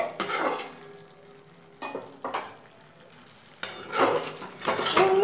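Bitter gourd and potato curry, a Bengali uchhe aloo posto, is stirred in a pot with a spoon, giving several separate bursts of scraping and clinking against the metal, with quiet gaps between them.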